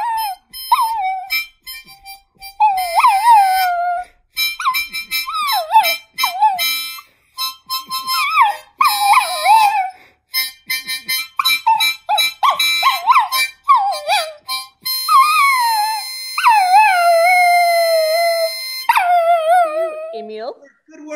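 A man imitates a dog with his voice at a Purim party, giving a run of rising and falling howls, whimpers and yips in short bursts, loud and close, with brief pauses between.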